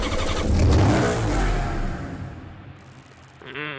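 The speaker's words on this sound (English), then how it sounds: "let's hear the engine startup sound for this car." The Maserati Gran Turismo S starts up in Need for Speed Hot Pursuit Remastered with a loud crank and bark, a swelling rev, then a settling idle as the engine note fades out near the end.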